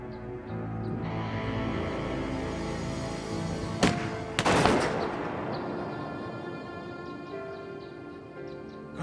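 A single gunshot aimed at a moose cracks out sharply, close and loud, followed by a second burst and a decaying rumble over steady outdoor background.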